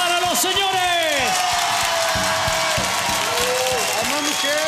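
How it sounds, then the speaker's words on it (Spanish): A studio audience on a Chilean TV game night show bursts into loud, sustained applause with whoops and cheers, while a host's amplified voice rings out over the clapping throughout. "¡Aplausos para los señores!"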